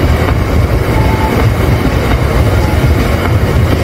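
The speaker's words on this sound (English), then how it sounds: "That's one of the goods trains coming from Castle Cement and taking all the limestone somewhere else." A goods train hauling limestone from a cement works rumbles past on Henthorn Road in Clitheroe, Lancashire, loud and close, a steady broadband roar of wagons and wheels with faint clickety-clack throughout.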